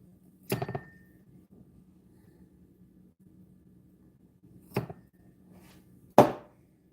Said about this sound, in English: So we are going to have to cut these ropes.